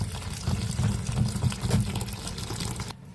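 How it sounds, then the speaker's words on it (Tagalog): Water splashes and pours steadily into a container of bitter melon, a continuous burbling stream that stops abruptly at the end. "Lagyan muna natin siya ng tubig."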